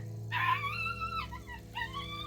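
A puppy stuck in a pit in rubbish-strewn undergrowth whimpers in long, high, wavering cries, two drawn-out whines separated by a brief pause, over a low steady hum and no talking.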